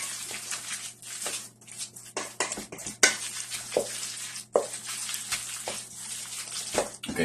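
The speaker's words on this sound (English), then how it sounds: "we're just going to mix it all in so it comes to a desired consistency" Triggerfish cake mixture being stirred with Dijon mustard in a bowl, giving close, uneven scraping and clinking strokes in irregular bursts with brief pauses between, and no talking over it.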